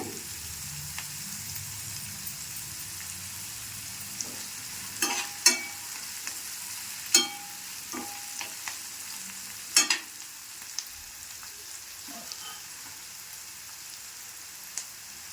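Onions frying in a pan with turmeric added, a soft steady sizzle broken by intermittent scraping taps of a stirring spoon.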